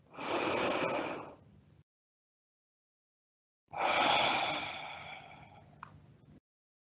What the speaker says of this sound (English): And take another few deep breaths.